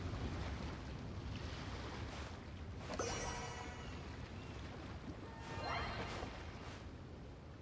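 Ocean waves at sea in the Genshin Impact video game make a steady, soft wash of surf and wind noise, with two brief swells of splashing rising out of it.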